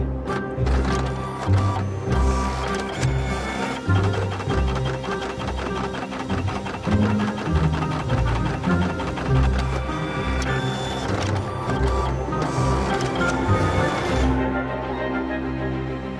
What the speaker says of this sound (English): The printer immediately unblocks.